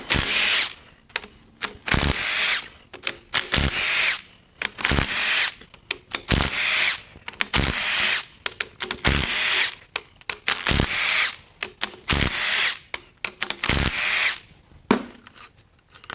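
Power tool, likely an impact driver or drill, backing head bolts out of a blown 6.1L Dodge SRT8 Hemi engine during teardown: repeated whirring bursts of a second or so, separated by short gaps, close and loud.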